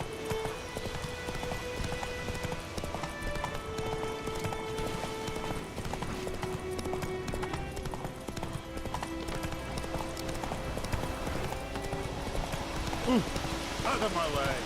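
Roach, a horse in the video game The Witcher 3, gallops with steady, rapid clip-clop hoofbeats running through the whole stretch, under game music and a voice speaking intermittently.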